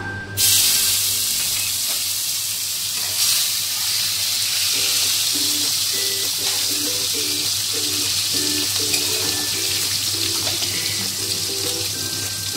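Whole garam masala spices, cardamom, cloves and cinnamon, sizzle steadily in hot oil in a pan, a continuous close hiss lasting throughout with a faint steady hum underneath.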